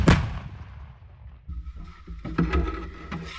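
A 152-mm 2S3M Acacia self-propelled howitzer fires with one loud, sharp blast that rolls away into a long decaying rumble, followed by nearby mechanical clanks and rattling.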